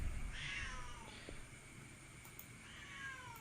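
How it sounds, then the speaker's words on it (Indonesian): A cat meows indoors, a few drawn-out faint cries over a quiet background hum. "Waduh, kucing saya lagi ngamuk."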